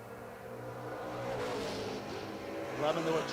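Doorslammer drag race cars, a Chevelle and an S10, roar off the line together in a loud, sustained engine blast that rises in pitch toward the end, with a voice talking faintly underneath.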